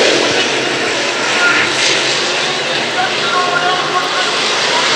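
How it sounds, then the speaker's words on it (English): Pro late model race cars roar loudly and continuously at Brownstown Speedway as they run side by side down the front straightaway, a dense, sustained engine wash that fills the whole clip. "That's Jug Weathington, Tyler Kane racing side by side on the front straightaway"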